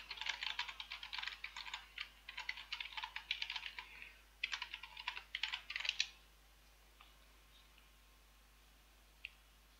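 Computer keyboard typed on to log in: rapid, close bursts of key clicks in two runs, then near silence with a single faint tap at the end.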